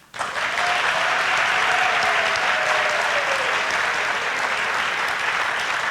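Loud, sustained applause from a large church congregation, steady throughout with dense clapping and no speech over it.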